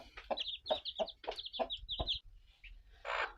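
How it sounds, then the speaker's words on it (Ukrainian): Guinea fowl chicks with a bantam hen make a rapid series of high, sharp peeping calls, about seven in a row, followed by a soft breathy rustle. "Ось вони, ці мої невеличкі маленьке стадо цесарят з бентамочкою"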